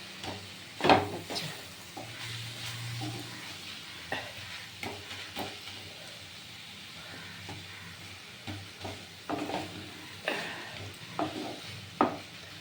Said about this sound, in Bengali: সব আলু সমান না যতক্ষণ আলু সেদ্ধ না হবে ততক্ষণ কিন্তু ভাজা ভাজা হবেই